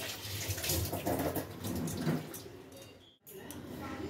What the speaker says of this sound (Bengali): এবার চিকেনটা ধুয়ে নিই।